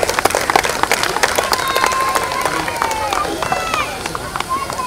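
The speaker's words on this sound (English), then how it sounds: "Let's give a big cheer and a loud applause for Sonu Sood" Crowd at the Cricfit Premiere League 2021 cricket event applauding and cheering for Sonu Sood, with dense clapping and shouts from many people, loud and steady throughout, with brief whistles and voices rising above the noise.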